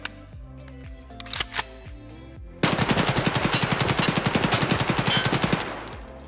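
An AKS-74U submachine gun fires in Escape from Tarkov: a few clicks and single shots, then a long, loud, rapid full-auto burst of evenly spaced shots lasting several seconds, close up, with no talk.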